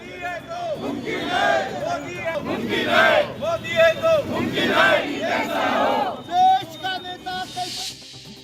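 BJP youth crowd in Nagpur chanting Bharat Mata ki Jai while waving the tricolour, loud rhythmic group shouts rising and falling in repeated bursts.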